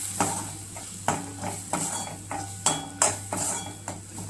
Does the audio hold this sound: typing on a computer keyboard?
no